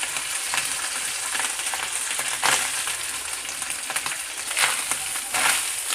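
Rice is stirred in a frying pan over a steady, close sizzle. A few louder scraping strokes come at uneven intervals.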